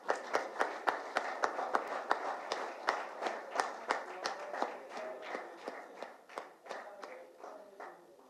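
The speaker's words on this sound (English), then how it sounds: "I just urge to keep the clapping going around." An audience claps at a Hyderabad Football Club jersey launch event, with sharp distinct claps in a steady, moderately quick rhythm that carries on throughout, fairly close and gradually blending into a denser patter toward the end.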